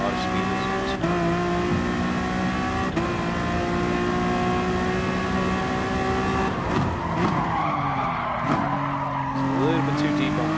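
Honda NSX GT3 race car in Gran Turismo Sport, engine droning steadily at high revs as the tires squeal through a corner, with a voice talking over it.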